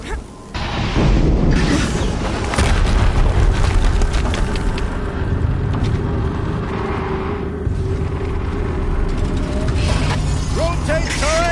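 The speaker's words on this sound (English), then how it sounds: "Another explosion." Video game explosions from Horizon Zero Dawn rumble loud and sustained, a dense low booming mix with mechanical clatter running through the whole stretch, with a voice talking over it.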